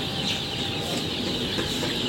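Fayoumi chicks crowd a poultry shop, where chicken clucks and chirps rise in a busy, continuous chorus over the room's background, close and moderately loud, with no one speaking.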